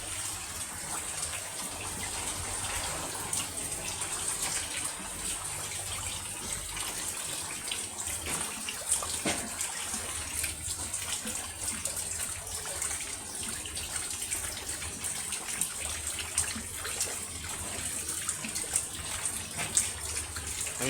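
Heavy rain in Gazipur with floodwater around a house, a continuous dense hiss of downpour and running water, steady and unbroken throughout, moderately loud with occasional louder drips and splashes.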